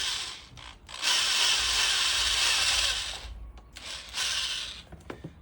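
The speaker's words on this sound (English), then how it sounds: "So now that I have those pilot holes drilled" Power drill boring pilot holes into a plastic motorcycle seat base for a 1979 Honda CBX, with a long steady whine in the middle and shorter bursts after, alone and close.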